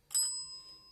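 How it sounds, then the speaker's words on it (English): A single pun bell ding, a bright bicycle-style bell struck once close by, its clear ring sustaining and slowly fading. "any puns will be greeted with the noise of a bell"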